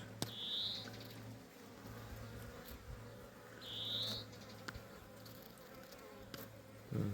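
Honey bees drone in a steady, low buzz close to the microphone, with occasional single bees whining past and faint clicks.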